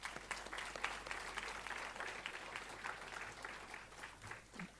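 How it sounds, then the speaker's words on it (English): An audience at the Wawasan Open University 2017 convocation claps for the graduates in a dense, even round of applause, heard faint and distant throughout. "Please join me in giving all of them a big round of applause."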